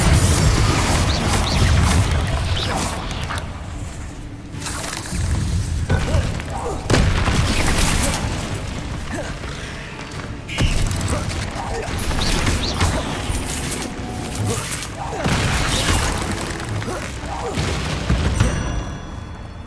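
Confringo blasting spell explosions in the video game Hogwarts Legacy on PS5 thump and crash repeatedly, loud booms in bursts over busy combat effects, with a voice speaking between them.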